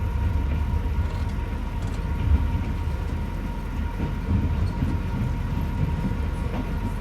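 Steady rumble of a train rolling along the track, heard from inside a fifty-year-old sleeper car, a continuous low-frequency roar with faint rail clatter and no voices.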